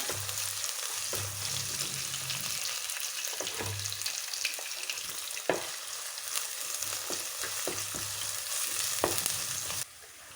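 Crushed garlic and ginger fry in a hot pan for a Kerala-style fish curry, giving a steady close sizzle with soft stirring scrapes and brief clinks throughout, with no one talking.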